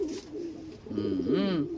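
A racing pigeon coos close by, a soft low warbling call rising and falling, with a quieter coo just before it.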